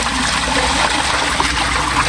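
Water gushes out steadily as a tank is drained and refilled, a close, continuous rushing splash with no break.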